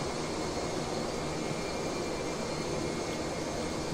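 McDonnell Douglas DC-10 jet engines in a flight simulator, a dense steady roar with a thin high whine riding on top, constant and fairly loud with no voices.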